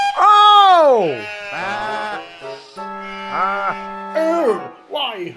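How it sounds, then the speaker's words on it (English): Sheep bleat in a string of wavering, voiced calls, loud and close, one after another with short gaps, the last few overlapping. "It's those blooming sheep again, thinking that they're a train."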